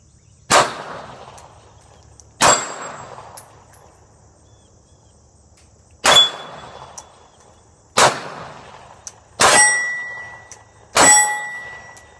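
Six sharp shots from a Beretta 84BB Cheetah pistol, each paired with a ringing clang from steel plates on a plate rack. They come in irregular pairs and singles with quiet pauses between, the last ones faster and more resonant.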